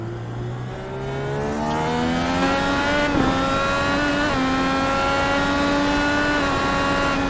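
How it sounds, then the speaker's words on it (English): Honda-powered IndyCar race car engine in the iRacing simulation at the Alabama Grand Prix, a loud, steady high-pitched howl with harmonics climbing and shifting through gear changes, close and continuous with no talk. "Looking out the back of Scott Speed's car, if you look down at that Honda exhaust coming out there"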